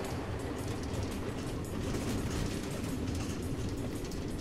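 Train rolling along automated tracks in the Nether in the video game Minecraft Story Mode, a steady loud rumbling clatter of wheels that continues without pause throughout.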